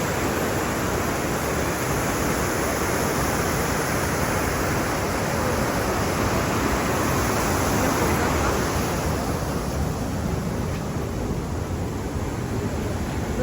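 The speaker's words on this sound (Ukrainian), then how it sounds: "це водоспад називається пробій." The Probiy waterfall in Yaremche in the Carpathians roars in a steady, broad rush of falling water, loud and unbroken throughout with no voices.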